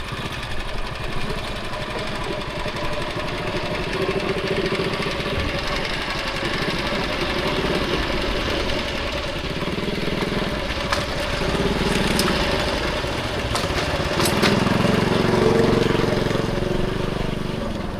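A small passenger boat's engine idles at a river crossing between West and Central Java, a steady, rough mechanical chugging with some louder surges and faint background voices.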